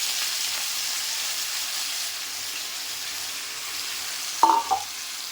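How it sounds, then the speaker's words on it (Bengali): Boiled elephant apple (chalta) frying in hot oil for a pickle, a steady close sizzle throughout, with a brief sharp clatter of a spoon or pan near the end. "একটু সময় তেলে মেরে নিতে হবে"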